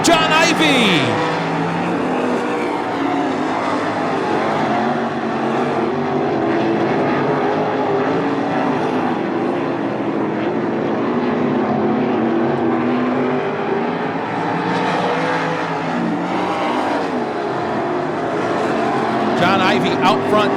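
305 sprint cars racing nose to tail in a heat race at Attica Raceway Park, a loud continuous engine roar rising and falling as they pass, with an announcer talking over it throughout.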